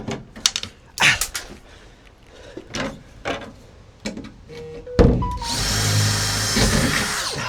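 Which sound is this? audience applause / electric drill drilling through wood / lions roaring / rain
electric drill drilling through wood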